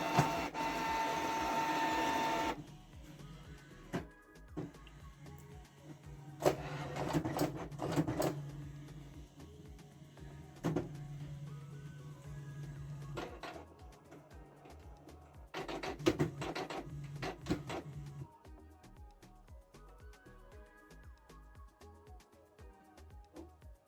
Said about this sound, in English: you need to switch the printer on